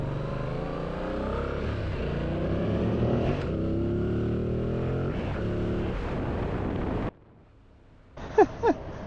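A motorcycle rides through downtown Orlando, its engine droning and revving steadily up close with wind rushing over the mic, then cutting abruptly to near quiet before a few short sharp sounds return at the end.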